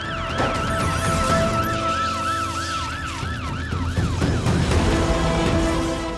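A wailing fire engine siren sweeps up and down repeatedly, loud and steady, with traffic rumble underneath.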